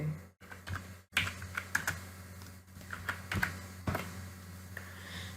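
Close typing on a computer keyboard, a quick scatter of light clicks and taps in short irregular runs over a faint steady hum, with no talk.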